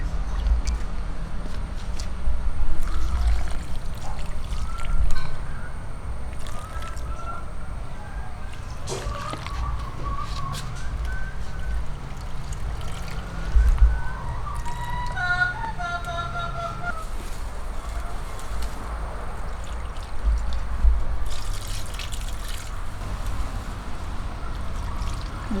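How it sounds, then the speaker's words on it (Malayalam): Liquid organic fertilizer is poured from a mug onto the base of potted garden plants, making repeated splashing trickles and sloshes that come in bursts over a longer stretch. "എന്നിട്ട് നമുക്ക് ചെടിയുടെ കടക്കിലോട്ട് ഒഴിച്ചു കൊടുക്കാം."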